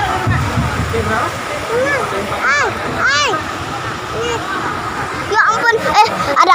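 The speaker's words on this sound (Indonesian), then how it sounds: "Tuh lihat itu ombak" Flash flood water sloshes and surges in waves on Lombok, a rough churning wash heard under overlapping loud voices, rising and falling unevenly.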